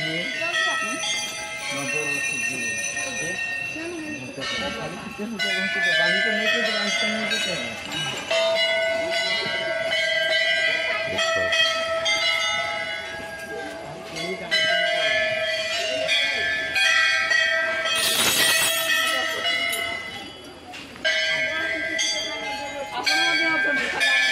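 Temple bells at the Maa Ghanteswari temple ring repeatedly with bright metallic tones while singing voices carry on throughout, the clanging dense and fairly loud.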